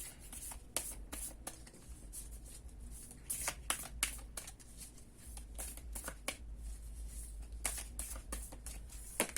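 Tarot cards being shuffled and drawn by hand during a reading, a steady close riffling broken by sharp, crisp snaps and slaps of the deck at irregular intervals.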